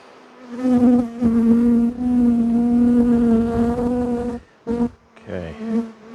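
Honey bees swarm around frames lifted from an open hive, a loud, close, droning buzz with a strong steady pitch that swells and dips, breaking briefly near the end.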